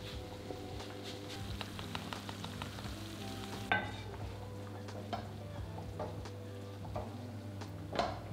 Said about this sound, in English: add that salmon back into the pan with the cream to continue cooking. We're also going to add in the zest of a lemon and give it a stir.